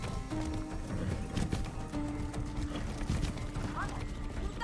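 Clip-clop of horse hooves with an occasional whinny in Far Cry 6, under steady game sounds and a talking voice.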